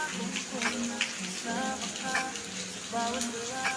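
Rain falling steadily outside a church, a continuous sizzling patter under the voices of people talking nearby.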